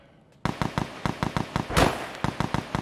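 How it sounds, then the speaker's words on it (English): Grenades explode in the video game Escape From Tarkov, a rapid string of a dozen or more sharp bangs at a steady rhythm, with one longer burst in the middle, fairly loud and punchy. "it's nades, popping off over there"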